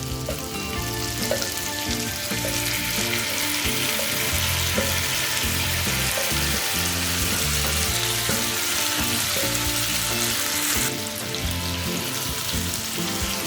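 Chicken tangri kabab frying on a medium flame with its marinade, a dense continuous loud sizzle and crackle throughout, close and steady, with a brief swell in intensity near the end and no voices.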